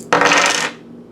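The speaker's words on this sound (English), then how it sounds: "I'm going to roll the dice and then show you the cards" Dice thrown onto a hard surface during a tarot card reading, giving a quick burst of rattling clatter that fades within about half a second, close and alone.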